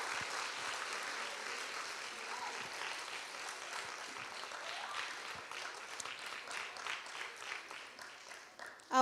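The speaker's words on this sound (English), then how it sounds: "Can we give them a huge round of applause" An audience applauds students after their performance at a Easwaramma Day event, dense sustained clapping that carries evenly throughout and swells slightly at the very end.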